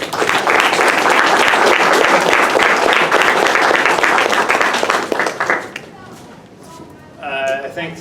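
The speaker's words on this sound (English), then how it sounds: "Let's give him a round of applause." An audience in a Hamilton hall gives a sustained round of clapping for a speaker at a book launch, loud and dense for about five seconds before fading, after which a voice begins speaking.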